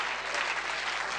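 An audience applauding during a French-language church sermon, a dense, steady burst of many hands clapping that fills the whole brief moment.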